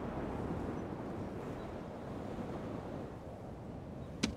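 Sea waves and wind in the Rome: Total War strategy game as ships set sail, a steady broadband wash of surf and water noise running throughout with a brief sharp click near the end.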